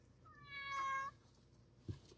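A house cat gives a single drawn-out meow, clear and fairly close, in an otherwise quiet room, followed by a brief low thump.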